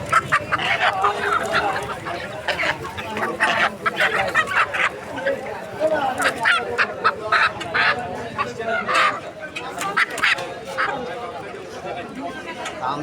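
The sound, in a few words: chickens and ducks at a poultry market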